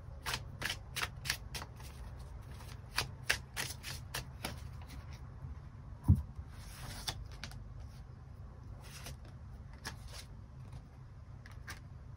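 Tarot cards are shuffled in a quiet room, giving a string of crisp riffling snaps and flutters, some clustered and some spaced apart, with one sharper knock midway.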